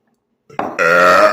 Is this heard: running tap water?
no